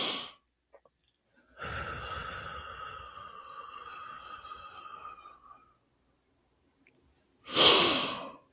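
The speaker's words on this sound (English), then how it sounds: "inhale quickly and deeply on go, and then exhale slowly on slow" A person breathing through cupped hands as a relaxation exercise: a short breath, then a long, slow, airy exhale lasting several seconds. A sharp deep inhale follows at the end, all close and quiet with no talk.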